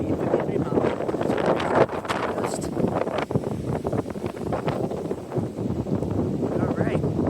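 A big gust of wind roars and buffets the microphone outdoors during Hurricane Milton's landfall in Orlando, Florida, a loud continuous rush that swells and churns throughout with rustling bursts.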